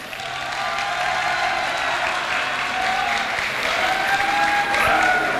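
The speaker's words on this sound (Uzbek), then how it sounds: "Mana shu barcha qarsaklar sizni shaningizga onajon." Wedding guests at an Uzbek celebration give loud, sustained applause, a thick continuous wash of clapping that holds steady from start to finish.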